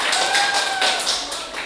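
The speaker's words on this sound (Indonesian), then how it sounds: "Oke, tepuk tangan untuk kelompok 2." Classroom applause for a student group during an economics class performance test, a short burst of scattered hand clapping from a small group, moderately close and continuous, with faint talk underneath.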